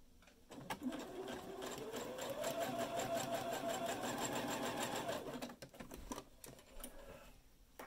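A sewing machine runs steadily on a short zigzag stitch through elastic, a fast mechanical whir with rhythmic needle clatter, close and continuous before slowing and stopping near the end.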